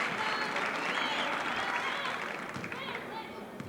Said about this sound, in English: The crowd giving Olszewski a hand.